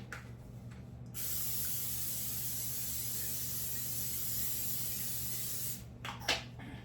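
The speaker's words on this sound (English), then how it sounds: "The gonna spray it with my pan spray." A steady hiss of aerosol cooking spray on a baking pan runs for several seconds, close and fairly loud, starting abruptly and cutting off, with faint clinks afterward.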